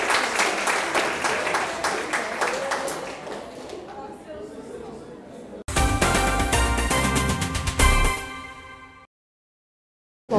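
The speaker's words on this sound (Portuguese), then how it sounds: "Uma salva de palmas a vocês" Audience applause at a psychology talk on emergencies and disasters: a dense crowd of hands clapping steadily, close and loud, then a sharper, fuller burst of clapping before it cuts to silence.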